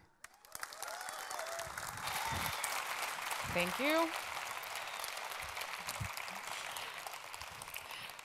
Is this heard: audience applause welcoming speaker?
yes